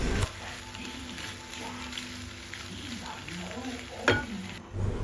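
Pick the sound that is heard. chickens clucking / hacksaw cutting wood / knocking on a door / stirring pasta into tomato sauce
stirring pasta into tomato sauce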